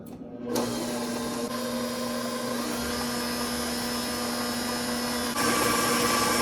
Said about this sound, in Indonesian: Lalu kita nyalakan mixernya.